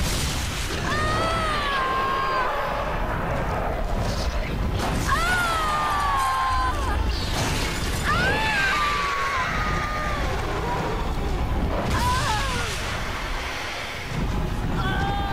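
Greenhouse collapsing with glass shattering in the Batman Arkham Asylum video game, a continuous loud wash of crashing noise with sweeping tones and bursts, while a voice talks over it throughout.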